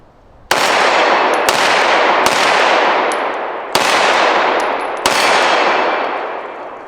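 Shots from a P320 M17 Commander pistol with a metal frame strike steel targets on a dueling tree, giving five loud, separate ringing clangs, each followed by a long fading metallic ring.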